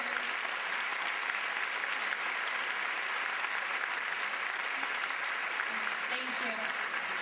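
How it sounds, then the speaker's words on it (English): Sustained applause from an audience at a Teacher of the Year 2014 ceremony, honouring two teachers; steady, dense clapping at moderate level throughout, with a faint voice near the end. "we give her a big round of applause for these two fabulous teachers"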